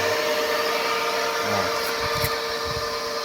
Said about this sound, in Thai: เป็นธรรมดาของเสียงพัดลมเทอร์โบ